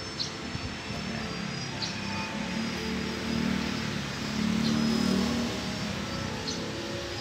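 Big-bike motorcycles ride past on a road, their engine drone swelling twice as they pass at moderate distance, then settling into a steady background hum.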